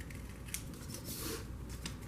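Scissors snip across the top edge of a paper template for a hexagonal slab lantern, a steady close run of soft crisp cutting strokes with light rustling and no voices.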